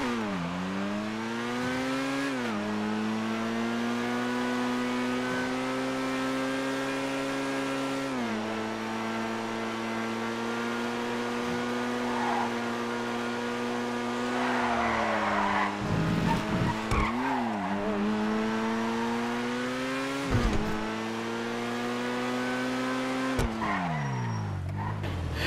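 Two-door supercar in a video game driving steadily with a loud, continuous engine drone that rises and falls through gear changes, punctuated by revving bursts and tire skids, heard alone without talk.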